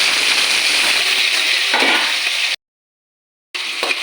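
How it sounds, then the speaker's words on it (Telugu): Boiled ivy gourd pieces fry in hot oil with tempering spices, giving a loud, continuous close sizzle that cuts out to silence for about a second before resuming. "ఇలా రెండు నిమిషాలు వేయించుకోవాలి"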